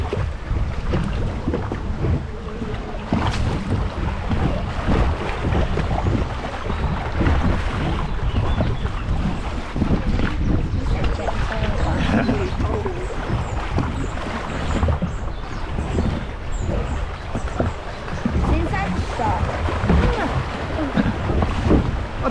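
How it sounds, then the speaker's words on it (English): Riding the Rio Do Cafe log flume at Bellewaerde: continuous loud rushing water and wind noise surround the boat as it moves along the channel, steady and close throughout. "It's quite a fast moving flume."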